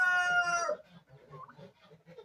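A rooster crows loudly and close by in a farmyard where grain-fed hens are kept, followed by scattered soft clucking from the chickens, with no talking.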